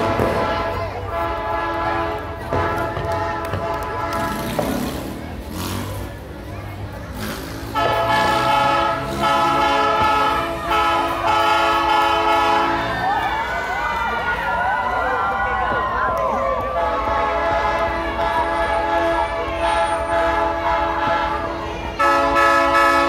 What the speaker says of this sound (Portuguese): A Rumo Logística que faz aí esse famoso trem do Natal.